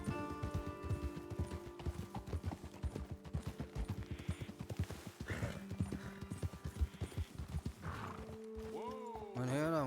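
Horse hooves clip-clopping in the video game Red Dead Redemption 2, a rapid rhythmic trot of several horses close by, with snorts and a whinny near the end under ongoing talk and background music.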